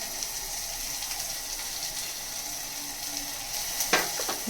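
Biryani masala being stirred with salt in a pan, a soft continuous sizzle with faint scraping of the spoon and a sharper clink near the end.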